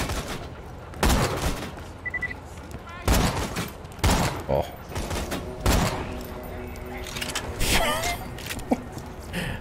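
Rapid machine gun bursts in Borderlands 2, loud and close, come in several separate volleys with short gaps between them, and a voice speaks over parts of the firing.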